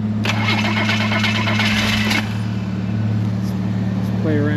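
An inline six engine with suspected timing problems cranks with a rapid, rhythmic starter chatter for about two seconds, then settles into a steady, loud running hum under a constant fan drone.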